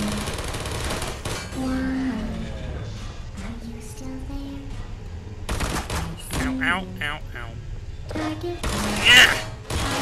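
Automated turret firing in the video game Portal, sharp bursts of rapid gunfire in several clusters, loudest near the end, with someone talking and exclaiming between the shots.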